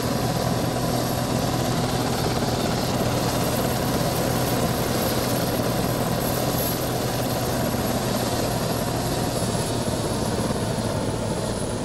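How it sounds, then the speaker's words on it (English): Steady, loud helicopter rotor and engine drone in the Arma 3 video game, heard up close and continuous throughout with no talking over it. "There's another heli here."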